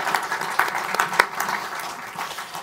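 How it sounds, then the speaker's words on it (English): A room of listeners at a book talk on the Senkaku paradox applauds the speaker, brisk, dense clapping that peaks early and then thins and softens toward the end, with no talk. "Let's clap for Michael O'Hanlon."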